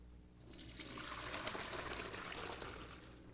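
Water from a pot of cooked ziti pasta pours and splashes steadily into a colander, a continuous close rushing trickle with no talk.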